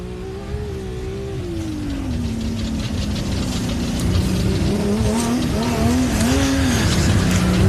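An off-road race vehicle at the Loveday 400 at Loveday 4x4 Adventure Park, engine roaring loud and close as it revs through the final corners, pitch rising and falling with gear changes, no talk over it.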